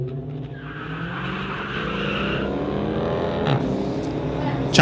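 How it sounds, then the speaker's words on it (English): A Dodge Challenger spins its wheels at a street-legal drag race launch, a loud sustained engine roar with tire squeal building and rising over several seconds. "Challenger spins up the wheels,"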